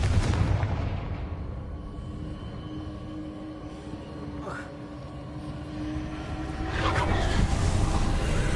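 A Confringo fire spell goes off in Hogwarts Legacy, a deep rumbling blast with a low booming body. The rumble eases mid-way, then swells again into a louder roar near the end.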